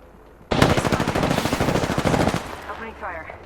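Rapid automatic gunfire from an Apex Legends match erupts suddenly and loudly, a sustained dense burst of shots lasting about two seconds before cutting off into quieter game ambience.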